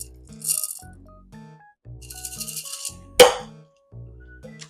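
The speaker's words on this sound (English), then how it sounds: "All you got to do is add your nuts into the deal." Nuts tumble into a container for homemade nut milk with a short scattered rattle, then a sharp clattering crash, set among background music.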